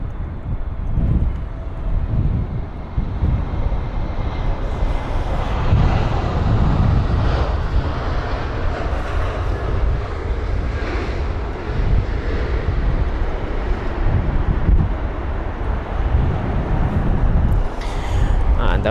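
An airliner approaches runway 27 right at London Heathrow in gusty wind, a broad, continuous engine roar and rumble with wind noise, steady and fairly loud throughout.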